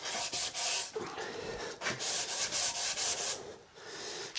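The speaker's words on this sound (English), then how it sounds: "I'm not going to bore you with hours and hours of laborious sanding" Sanding a wooden Flying V guitar body by hand: steady back-and-forth scraping strokes, close and fairly loud, with short pauses between passes and no talking.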